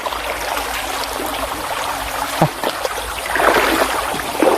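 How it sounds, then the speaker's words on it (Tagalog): River water rushes steadily over a rocky bed, a continuous broadband gurgle with small splashes rising slightly toward the end, close and fairly loud, with no talking. "agos ng tubig dito sa batuhan."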